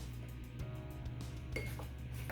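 A spoon stirs sugar into half a cup of water in a glass, giving faint, quick clinks against the sides over a steady low background hum.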